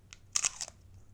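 Teeth bite into a popsicle wrapped in a frozen fruit roll-up that has hardened into a crunchy candy shell, giving a few sharp, close crunches and crackles in quick succession, then quiet.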